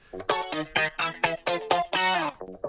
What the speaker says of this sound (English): the guitar riff running throughout most of this track